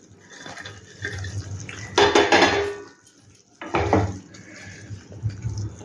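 Tangra fish are tipped into a wok of mustard gravy, giving two short bursts of clattering and wet sizzling, close and loud, between quieter kitchen rustling.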